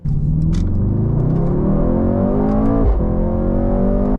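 A Mercedes-AMG GT 63 S engine revs hard and accelerates steadily, its pitch climbing, with a brief drop at a gear shift before pulling up again.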